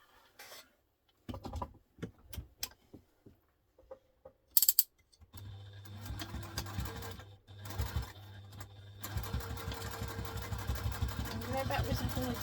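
A sewing machine stitches fabric for a diaper clutch, running backwards and forwards. A few mechanical clicks come first, then from mid-clip a loud, steady, close whirr that runs on continuously.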